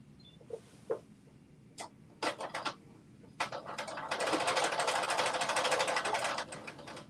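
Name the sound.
sewing machine stitching near zipper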